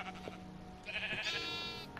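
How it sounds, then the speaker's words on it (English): A Minecraft sheep bleats once, a clear wavering baa rising midway through, close and fairly loud over a quiet low background hum. "So we're going to breed one of these sheeps."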